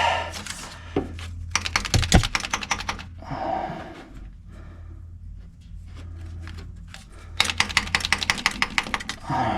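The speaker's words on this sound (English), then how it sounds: "Just tapping all the dust out of it." A vehicle speed sensor pulled from a 2000 Ford F350 is tapped to knock the dust out of it. Close, rapid clusters of small hard clicks come in two bursts with a quieter gap between them, and no one speaks.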